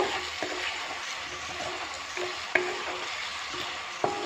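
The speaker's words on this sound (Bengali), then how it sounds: "দিয়ে এটাকে ভালো করে কষে নেব।" Garlic, dry chilli, ginger paste and turmeric stir-fry in a pan with a steady sizzle, under repeated scraping stirs and a few sharp clinks of the utensil against the pan.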